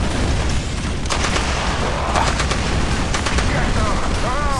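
Units fire in a dense Dawn of War battle with Death Korps of Krieg forces, a continuous barrage of machine-gun rattle, booms and artillery blasts, loud and layered, with a faint voice beneath.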